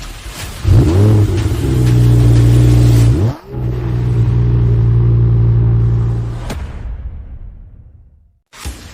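A Lamborghini engine revs up loud and close, climbing to a sustained roar, briefly dipping, then roaring again before fading away, followed by a short thud.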